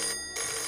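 A telephone bell rings in an indoor home setting, a steady bright electronic trill with a brief gap in the middle, close and alone.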